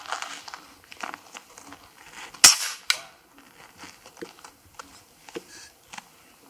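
A single sharp crack of a powerful PCP air rifle fired at a small metal target, loud and close, standing out among quiet handling clicks and rustles, followed moments later by a faint second tap.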